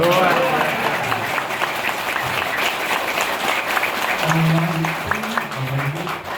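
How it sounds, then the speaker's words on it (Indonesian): Steady audience clapping at an Islamic religious gathering, dense and continuous throughout, with a voice speaking over it. "Tepuk tangan semua."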